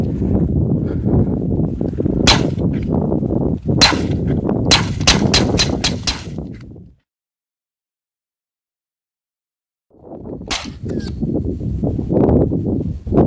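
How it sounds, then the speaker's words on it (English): Suppressed 9mm pistol shots from a Huntertown Arms Guardian 9 suppressor firing Russian military 95-grain ammo: a handful of sharp, close cracks in an irregular then quick rhythm, a pause of silence, then one more shot amid outdoor noise. "right now we're gonna test fire and see what type of sound barrier we have"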